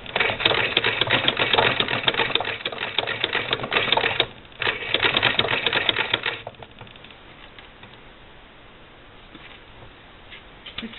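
A Singer Model 20 SewHandy toy sewing machine stitches binding onto a quilt with a rapid, close mechanical clatter for about six seconds, a brief pause near four seconds, then fading to quiet room noise.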